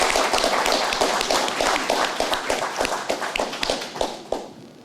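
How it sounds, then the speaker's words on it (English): A round of applause breaks out in a city planning commission meeting room, dense close clapping from several people that tapers off over a few seconds. "we should give the staff, Jill and her staff, a round of applause"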